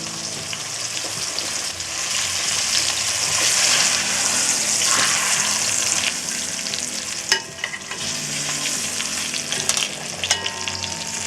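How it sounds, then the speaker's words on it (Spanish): Beef rump tail searing in a pot over high heat gives a loud, continuous close sizzle with crackles and occasional utensil clicks, steady throughout. "Vamos a dar un poquito más fuerte el fuego para que selle rápido."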